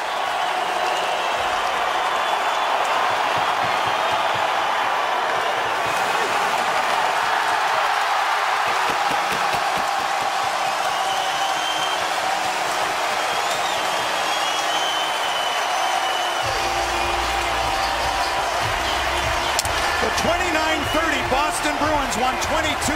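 Loud hockey arena crowd roaring and cheering as the Detroit Red Wings clinch a 22nd consecutive win on a late game-winning goal, a sustained dense wall of cheers and applause filling the building throughout.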